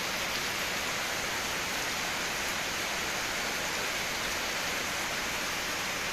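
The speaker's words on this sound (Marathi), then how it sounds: "आज बऱ्यापैकी पाऊस पडलाय आमच्या परिसरात." Heavy rain pours down outdoors in a rural area of Pune district beside a canal, an even, dense hiss that stays constant throughout.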